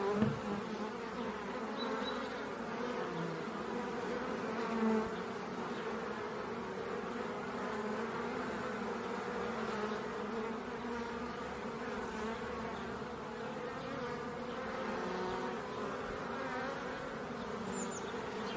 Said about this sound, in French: C'est entendre le chant des abeilles, entendre leur musique et être avec elles tout près